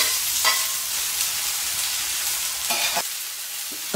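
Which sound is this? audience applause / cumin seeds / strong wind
cumin seeds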